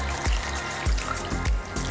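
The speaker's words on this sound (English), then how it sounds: "And then some water on top." Water poured over gyoza ingredients in a kitchen, a soft splashing trickle broken by three brief pours, close and alone with no voices.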